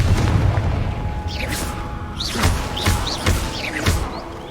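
Several booming blasts from the Confringo explosive spell ring out in Hogwarts Legacy, separate heavy thuds arriving one after another with bright whooshing streaks around them.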